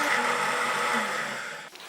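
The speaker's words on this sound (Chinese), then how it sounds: "晾凉后放入破壁机中，盖上盖子，将它打成香菇粉。" A high-speed blender grinds oven-dried shiitake mushrooms into powder, its motor whirring in a steady, loud roar, then winding down and cutting off near the end.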